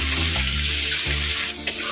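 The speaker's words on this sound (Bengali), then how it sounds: "টমেটোটা আমি একটু হালকা করে ভেজে নেব।" Tomato sizzling lightly in a pan with oil while cooking a Bengali fish-head and bottle gourd curry, a steady close frying hiss with faint stirring scrapes.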